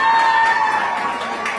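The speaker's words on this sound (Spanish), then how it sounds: "los aplausos para Brisa Hermenegildo Valverde" Applause from a crowd at a graduation ceremony for the Instituto Pablo Casals anniversary, a steady wash of clapping and cheering filling the whole moment with no talk over it.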